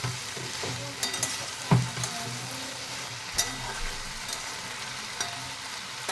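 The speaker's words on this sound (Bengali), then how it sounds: "সব সবজি আমার এখানে ভাজা হয়ে গেছে ভালোভাবে।" Mixed vegetables with pui (Malabar spinach) sizzle in a pan on the stove, while a utensil scrapes and knocks against the pan every second or so. The sizzle is steady and close, with no talking.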